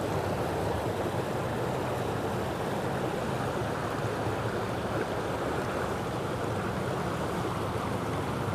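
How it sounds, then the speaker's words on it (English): Water runs steadily in a broad, even rush, like a stream flowing past nearby in Memorial Park, Rapid City, with no voices. "Let's look at the water running away from us here."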